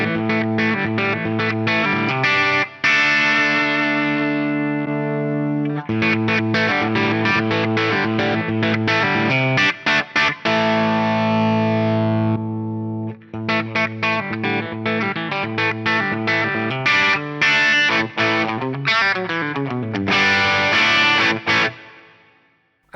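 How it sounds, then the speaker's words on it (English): Electric guitar played through an Axe-Fx III on a stacked overdrive setting, loud driven chords and quick riffs with short pauses between phrases, distorted and sustained, heard alone. "Let's hear the stacked setting, then we'll hear the like clean OD setting, and then we'll hear this parallel comp."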